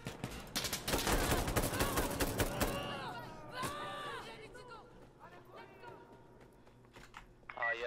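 Rapid gunfire in the video game Insurgency Sandstorm, dense bursts of automatic shots crackling loudly for the first few seconds, then scattered distant reports, with players chatting over the action.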